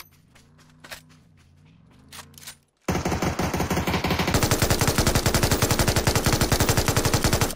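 Automatic gunfire in the battle royale game PUBG on the Deston map, a quiet stretch of low game ambience giving way to a loud, sustained burst of rapid shots that keeps hammering close and steady to the end.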